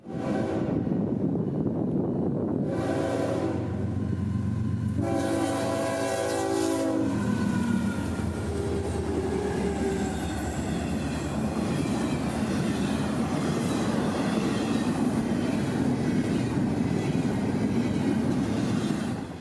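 An FEC intermodal freight train, No. 202 running north out of Miami, passes close by on the Florida East Coast line near Orlando, a long steady roar of engines and rolling wagons, with a horn blast and clattering wheels early on.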